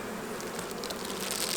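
Honey bees at an opened hive during a November inspection drone in a dense, steady buzz, faint and continuous for a short moment.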